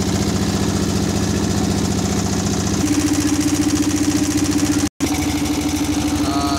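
A boat engine on a trip through Ratargul swamp forest runs loud and close with a steady, rapid chugging pulse, shifting pitch slightly partway and cutting out for an instant before resuming.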